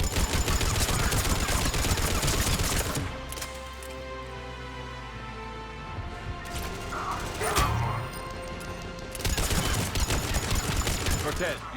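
Squad mates firing weapons in Mass Effect 3, with bursts of rapid automatic gunfire at the start and end and scattered shots and mechanical clatter in between, loud and close.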